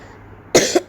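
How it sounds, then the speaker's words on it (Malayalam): A single short, sharp cough sounds close by after near silence, with a second smaller burst trailing right behind it. "ചുമയാണ്."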